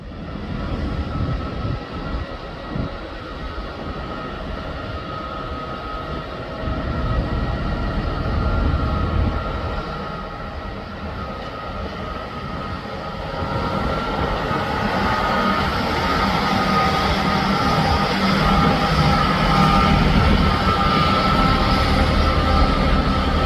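At Newcastle station, a train rumbles steadily with engine noise that swells partway through and stays loud to the end, with no speech over it.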